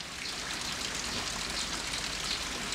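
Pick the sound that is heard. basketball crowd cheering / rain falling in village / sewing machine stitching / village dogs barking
rain falling in village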